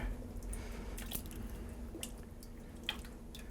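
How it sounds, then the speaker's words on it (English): Quiet, wet squishing and occasional drips as a thick shellfish clam chowder is stirred in a pot, the soft sloppy sounds coming close and irregular. "Okay, stir that all together."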